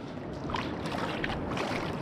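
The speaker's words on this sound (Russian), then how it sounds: "Набираю воды в кулер." Water splashes and gurgles as it is scooped into a cooler on a crabbing outing on the Pacific Ocean in the northwestern US, a close, continuous wash of sound.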